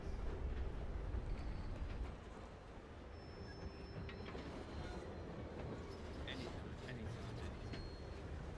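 Steam train rolling along in a Red Dead Redemption 2 roleplay game, a steady low rumble with faint clatter and occasional thin metallic squeals, fairly quiet throughout.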